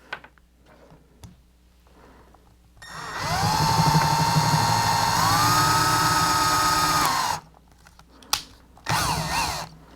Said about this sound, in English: We have a nice drill.